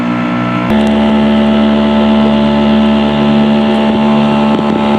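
A pontoon boat engine drones steadily at close range, a loud continuous hum with a brief bump near the start.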